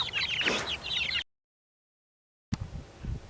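A flock of hungry farm chickens clucking near the house, a busy overlapping chorus of close clucks and calls that cuts out abruptly midway and resumes with lower rustling farmyard noise.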